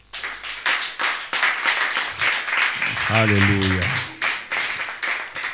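A church congregation claps and applauds in praise, a loud, fast run of hand claps with a brief sung or shouted exclamation rising over the clapping partway through.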